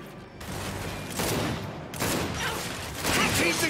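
Sustained bursts of gunfire in the Gears 5 video game, loud, dense and continuous, swelling in waves with no pause throughout.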